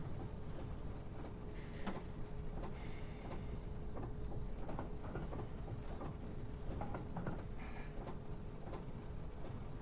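A train running on rails in Train Simulator Classic, on a London Victoria route near Gravesend, gives a steady, dense rumble with scattered clicks and rattles throughout, and no voices.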